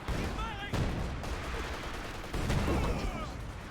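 SU-76 artillery barrage in a real-time strategy video game match, a burst of rumbling gunfire and blasts under a loud, busy battle mix with whistling shells.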